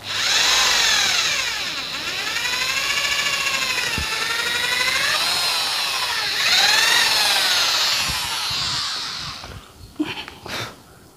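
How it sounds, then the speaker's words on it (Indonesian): A power drill whines loudly and steadily, its pitch dipping and rising as it bites into material, then stops with a few clunks. "Kita bor aja langsung."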